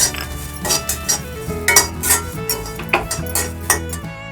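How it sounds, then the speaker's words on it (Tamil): Grated coconut and white sesame seeds sautéed in a pan for bitter gourd podi, a spoon scraping and clinking against the metal pan in a steady stirring rhythm, close and clear with no talk. "தேங்காய், வெள்ளை எள்ளு இது ரெண்டுத்தையும் சேர்த்து வதக்கிக்கலாம்."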